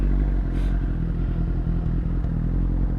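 A 2025 Kawasaki ZX-10R 1000cc sport bike ridden slowly around a parking lot, its engine holding a steady, loud, close low rumble with faint clatter and no voices.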